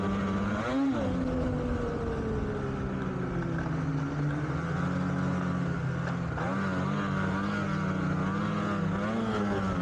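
Turbocharged snowmobile engine, a VR1 Boost or 9R XCR trail sled, spooling up quickly on the trail, a steady rising and falling engine drone with pitch sweeps as the throttle changes, close and continuous with no talk.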